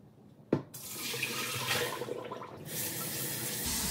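Tap water gushing steadily into a bowl to rinse cut potatoes for Mediterranean chips, starting after a sharp knock and running loud and continuous.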